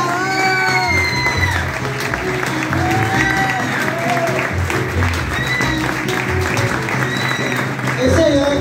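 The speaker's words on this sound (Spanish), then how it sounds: "Por favor, un fuerte aplauso acá atrás y en la batería chiquita" A concert audience applauds the drummer, with sustained clapping and scattered cheers mixed with whistles and tonal musical or vocal sounds throughout, fairly loud and close.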